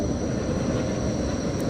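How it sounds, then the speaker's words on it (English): A loud tram rolls past close by, a steady low rumble of wheels on rails that fills the whole short stretch without letup, with no talk over it. "Sorry, loud tram."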